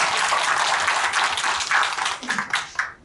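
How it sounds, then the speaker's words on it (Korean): Audience applause at a Gwangju launch ceremony for the committee marking 160 years of Goryeo-in and Korean migration: dense, steady clapping close by for about three seconds, thinning toward the end. "큰 박수로 보내주시기 바랍니다"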